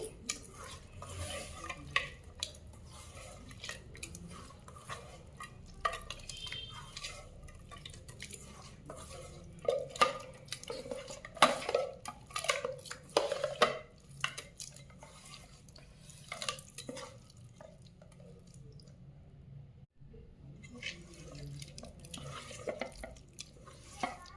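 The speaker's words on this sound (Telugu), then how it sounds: "ఈ రెండింటిని కలిపి అలానే చేతులతో నలపాలండి" Dried red chillies and soaked tamarind are squeezed and mashed by hand in a bowl for Nellore-style pachi pulusu, giving quiet, irregular squelches and soft clicks with brief pauses.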